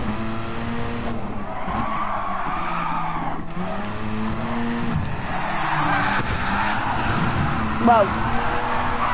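Tires squeal steadily as a car drifts in Gran Turismo, a wavering high screech over the engine's droning note, loud and close with brief breaks, while a person talks over it.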